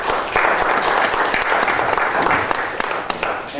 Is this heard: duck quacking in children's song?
no